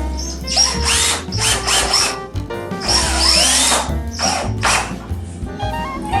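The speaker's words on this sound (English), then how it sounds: "We're going to grab the drill and we're going to attach in the screws." A power drill whirs in repeated bursts as screws are driven into a wooden workbench tabletop, each run rising in pitch and stopping, close and loud.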